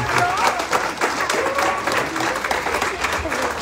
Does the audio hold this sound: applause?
yes